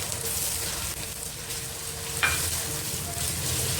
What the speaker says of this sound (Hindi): और इसको मैं 1 से 2 मिनट इसके साथ फ्राई करूँगी